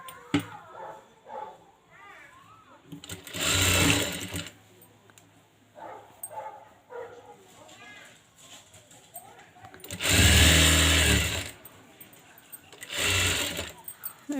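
A sewing machine stitches the puff sleeves of a blouse in three loud, whirring bursts of a few seconds each, separated by quieter stretches where a person talks.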